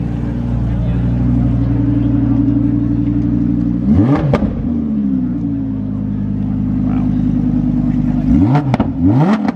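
Lamborghini Huracan engine at a Koenigsegg and McLaren supercar show, holding a steady loud drone with two sharp revs rising and falling near four seconds and again near nine, with crowd noise and voices around it.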